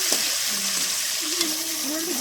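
Steady sizzling of tomato and onion sautéing in a pan, with a soft stirring scrape partway through; close and continuous.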